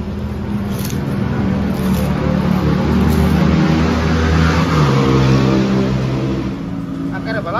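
Cars revving and racing, with loud, continuous engine roar and shifting pitch throughout, under talk and crowd noise.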